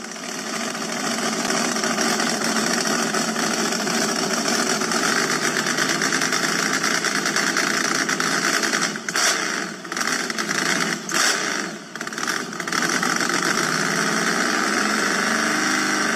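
The Max D monster truck engine idles with a loud, steady droning hum as the truck stages for a jump over three monster trucks. A few brief stutters break the drone midway.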